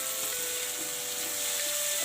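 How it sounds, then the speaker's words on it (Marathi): Lentils sizzle steadily in a hot tempering while cooking into a dill-leaf vegetable dish, giving a continuous, close frying hiss with no talk over it. "संपूर्ण डाळ फोडणीमध्ये टाकल्यानंतर छान अशी ही डाळ दोन मिनटं शिजवून घ्यायची आहे"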